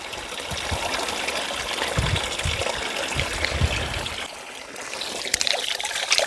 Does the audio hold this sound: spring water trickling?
yes